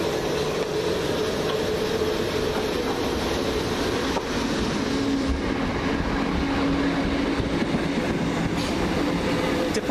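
A Govia Thameslink Class 319 electric train runs through West Norwood station, a loud continuous rumble of wheels and motors with faint tonal whine and clatter, close and steady throughout.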